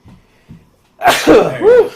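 A sharp, loud sneeze burst follows a couple of soft breaths, with a quick second explosive sound right after.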